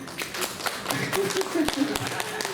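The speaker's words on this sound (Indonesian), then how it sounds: "Boleh tepuk tangannya?" A small audience at a hospital gathering claps in scattered, uneven bursts rather than a full ovation. The claps are sharp and close, and people talk over them.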